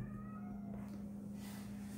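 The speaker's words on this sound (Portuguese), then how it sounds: "um gato muito chato" A cat gives a faint, brief meow in the background over a steady low electrical hum, then only the hum and room noise remain.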